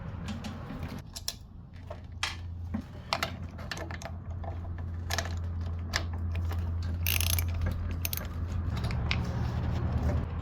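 A ratchet works on the cover of a pressure washer carburetor, giving a run of close, loud clicks and short mechanical bursts over a steady low engine-like hum.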